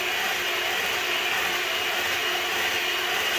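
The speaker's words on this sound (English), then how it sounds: "Just keep whisking." Red velvet sponge cake batter being whisked, likely with an electric mixer, giving a steady loud whirring hum without pause, close and unbroken throughout.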